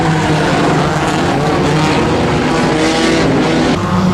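Race car engines roar steadily through a nighttime enduro race in a video game, a loud, dense wall of overlapping engine drone with no pauses across the few seconds.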